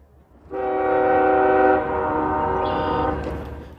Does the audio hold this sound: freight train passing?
yes